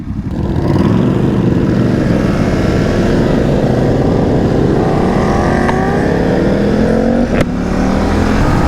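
A 2020 BMW F900R motorcycle accelerating on a road, its engine pitch climbing steadily through a long pull, loud and close, with heavy wind rush and a brief shift near the end.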